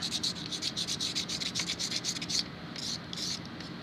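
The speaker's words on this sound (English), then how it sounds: "let me just sand this down a little bit" Rapid back-and-forth rasping of sandpaper on a wooden 3D puzzle piece, close and continuous, with a brief slowdown into a few separate strokes near the end.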